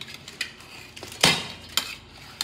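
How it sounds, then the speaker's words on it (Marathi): Steamed coriander wadi for a Maharashtrian snack, lifted from a steamer sieve onto a plate, with scattered light clinks and one sharper metallic clatter of utensils against metal. "चाळणमधून काढून ताटात ठेवून देते."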